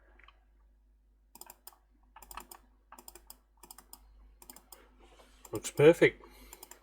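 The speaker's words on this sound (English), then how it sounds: "Clicking every time, it feels a lot better" A repaired Logitech M238 mouse button clicking in quick, sharp, close taps at a steady rhythm, followed by a short spoken remark.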